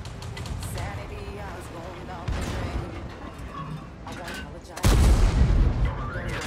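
Booming tank cannon shots and explosions from a World War II tank video game featuring the KV-1, heard amid continuous battle noise and a talking voice, with a heavy blast near the end.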